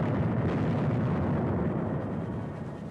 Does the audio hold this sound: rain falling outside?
no